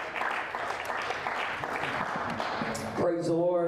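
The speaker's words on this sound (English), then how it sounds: "let's clap our hands to the Lord" A church congregation claps hands during a Wednesday evening worship service, a steady mass of clapping mixed with voices, then a sung or spoken tone rises over it at the end.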